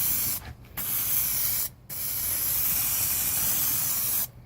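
Short blasts of spray coating hit the bare body metal of a 2003 Cadillac CTS driver's rear quarter, a loud close hiss broken by three brief pauses, with no talk.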